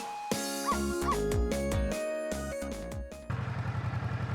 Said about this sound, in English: Yes, you guessed it, I barked.